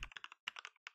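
Quiet, close computer keyboard typing, with several quick clustered keystrokes, a brief pause, and then a few more taps as a URL is entered.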